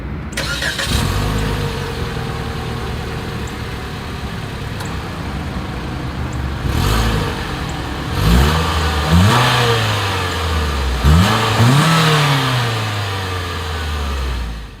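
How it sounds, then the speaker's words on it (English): A 2023 Mitsubishi Outlander Sport's exhaust, heard as the engine fires up, settles into an idle, then takes three sharp revs that climb and fall back, loud and close with no talk. "As always, here is that exhaust clip."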